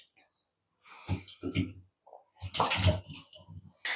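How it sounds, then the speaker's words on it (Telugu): A kilo of tomatoes is washed by hand in water, giving short, close splashing and sloshing bursts separated by brief pauses, with a voice speaking softly at times. "ఇలా కాయకి మొత్తం నీట్గా డస్ట్ అనేది లేకుండా శుభ్రంగా కడిగేసుకోవాలండి."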